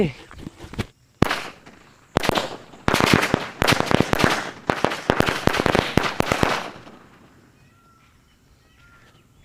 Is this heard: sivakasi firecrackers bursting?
yes